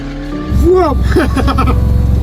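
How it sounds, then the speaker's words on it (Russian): Drift car engine revving hard as it slides, with rising and falling harmonic whine and a steady rumble, loud and close throughout; tire squeal is not clearly separable. "Саша катался на специальной дрифт-машине."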